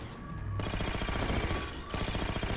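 Halo 4 pistol gunfire, a steady run of rapid shots lasting a couple of seconds with a brief pause, loud and close over dense game sound.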